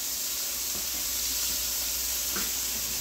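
Food sautéing in a skillet, likely beef for a Philly cheesesteak grilled cheese, gives off a steady close sizzling hiss that runs unbroken throughout with no talk.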